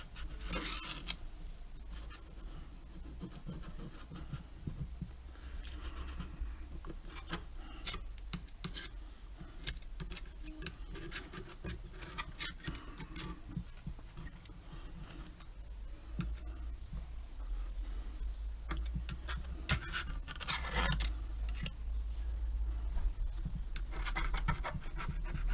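Scotch-Brite scrubs Yamaha Fazer 1000 carburettor parts, a faint, continuous scratchy rubbing with irregular strokes and light clicks, heard close up with no talking.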